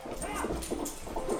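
A pet dog whimpers and whines in short, repeated nasal cries, close to the microphone over a soft indoor background.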